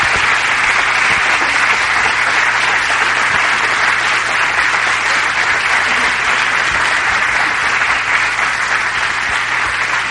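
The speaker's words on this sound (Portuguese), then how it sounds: "Salva de palmas para a Neide." An audience gives a dense, steady round of applause for a former music teacher, with sustained clapping filling the room evenly and no one speaking over it.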